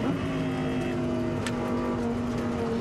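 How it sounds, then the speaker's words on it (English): Onboard a 2013 FIA GT1 race car in Slovakia, braking for a hairpin: a loud, steady engine drone with tonal whine fills the cockpit throughout, and a brief sharp tick appears midway. "We go on board now with Frank Stippler in 4th place. Under braking for the hairpin at 13."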